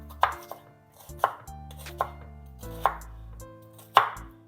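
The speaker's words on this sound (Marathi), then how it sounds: "असं उभा उभा चिरायला चालू जास्त बारीक नाही चिरला तरी चालेल" A knife chops onion lengthwise into strips on a board, five sharp separate cuts spaced about a second apart, close and clear with quiet gaps between.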